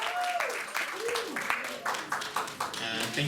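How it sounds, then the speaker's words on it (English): Applause from a conference audience at an event launch, a patchy wash of claps with some tonal voices or whoops mixed in, moderately loud and uneven across the moment. "Well, we can give them a bigger round of applause than that."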